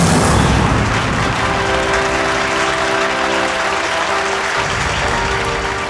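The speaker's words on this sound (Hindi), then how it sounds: "ऑडियंस इसलिए तालियां बजा रही है" An audience at a magic show bursts into loud, dense clapping and applause that holds steady for several seconds, with a low tone sounding underneath partway through.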